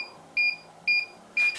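A self-leveling laser level beeps three times while it sits off level, short evenly spaced high-pitched tones about half a second apart over a quiet room.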